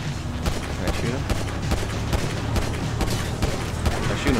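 Grand Theft Auto V shootout against bikers near a van: steady, dense gunfire with sharp repeated cracks and heavier booms layered throughout, a voice talking over the action.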